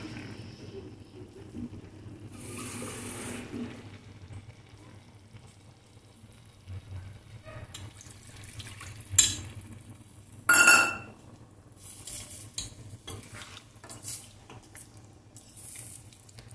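Water added to a pan of sautéed chicken for a Tamil chicken kulambu curry: a short splashy pour with some sizzling, then a few knocks and clinks against the pan, close, with a faint voice in the background.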